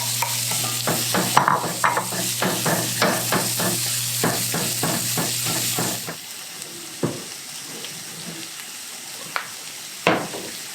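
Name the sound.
onions sautéing in a pan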